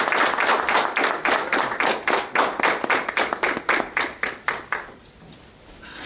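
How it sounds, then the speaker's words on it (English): A mosque audience in Wilmington, Delaware welcomes a speaker with a round of applause: loud, fast rhythmic clapping from a group that holds steady, then thins and fades over the last second. "welcome him to the city of Wilmington, Delaware, with a wonderful round of applause"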